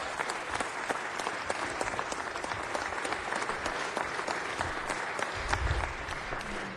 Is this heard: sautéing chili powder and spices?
no